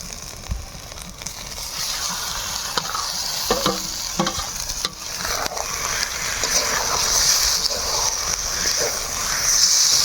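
Koi fish coated in spices sizzles and fries steadily in a pan of cauliflower paste, with stirring scrapes and a continuous hiss that grows slightly louder toward the end.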